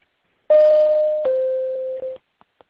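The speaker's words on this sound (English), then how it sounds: "and a double tone that sounds like this" A double electronic tone on a court teleconference signals that time has expired: two steady beeps run back to back, the second slightly lower, followed by a couple of faint clicks, with no talking.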